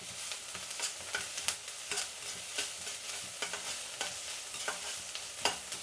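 Onions frying with ginger-garlic paste for an egg curry, a steady close sizzle broken by repeated scraping stirs of the spatula against the pan, no voices.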